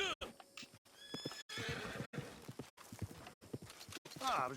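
A horse in Red Dead Redemption 2 Online whinnies and snorts close up, alongside clip-clopping hooves, with game speech mixed in and the sound broken by brief cuts.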